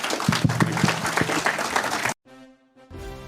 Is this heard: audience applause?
yes